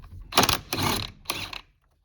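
Wrench working the 19 mm nut that holds the steering wheel on a Toyota Tundra, three quick close mechanical ratcheting bursts, then silence.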